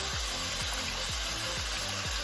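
Homemade sea moss being rinsed by hand in water makes rhythmic sloshing swishes, repeating about every half second, close and continuous.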